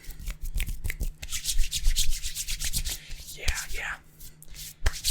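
Hands coated in moisturizer rub together close up in quick, uneven swishing strokes, with brief pauses and a few soft slick squelches and taps.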